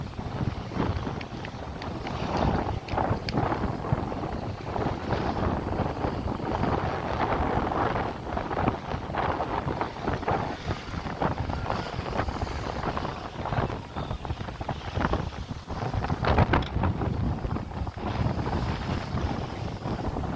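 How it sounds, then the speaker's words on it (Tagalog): Strong wind buffets the microphone in steady rushing gusts at a baywalk in Calamba, Laguna, loud and continuous throughout, with no voices. "Mahangin, malakas ang hangin."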